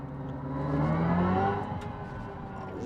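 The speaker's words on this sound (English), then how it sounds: "The shifts are absolutely so realistic with the motor jolt and everything you get between ups and down" Synthesized engine note from a Hyundai Ioniq 5 N electric car under acceleration, a rising harmonic whine that climbs then drops as a simulated gear shift cuts in, heard from inside the cabin.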